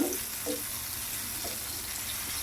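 Tomatoes for a Mysore bonda chutney cook in a pan with a steady, soft sizzle, broken by a few faint stirring scrapes.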